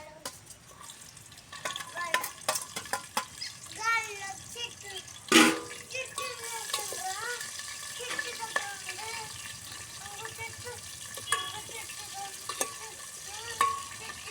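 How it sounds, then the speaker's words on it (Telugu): Onions and green chillies frying in hot oil in a village kitchen, close sizzling with frequent clattering stirs and scrapes, a loud clank midway, and a voice talking intermittently over it. "ఆనియన్స్ అయితే వేసుకుందాము ఉల్లిపాయ ముక్కలు అయితే వేసేసుకుంటున్నానండి ఉల్లిపాయలు పచ్చిమిర్చి"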